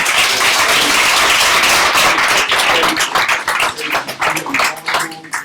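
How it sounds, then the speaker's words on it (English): Audience applause for the Fred Happy Gun Club, thanked for providing security at a Black family conference, with dense steady clapping that thins into scattered claps toward the end. "You can round of applause for them."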